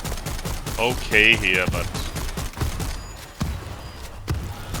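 Shotgun blasts in the zombie shooter World War Z, a series of sharp gunfire bursts mixed with other game noise while someone talks over them.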